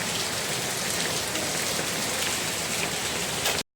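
Steady rain pattering on a surface, heard from inside an auto-rickshaw, dense and continuous, ending abruptly.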